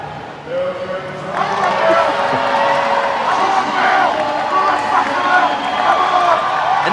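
A loud crowd cheers and roars at a strongman competition during a timed heavy log-lift event, a dense sustained wall of voices and whoops with an announcer talking over it.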